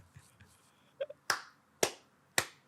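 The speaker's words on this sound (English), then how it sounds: "I'm fully clapping." Three sharp, loud hand claps close by, evenly spaced about half a second apart, with a few faint small taps just before them and no talking.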